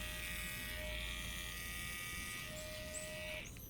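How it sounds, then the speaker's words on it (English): An Andis dog clipper, its blade drive just changed, runs with a steady thin electric hum and buzz at moderate distance, no talk over it. "Turn the clipper on."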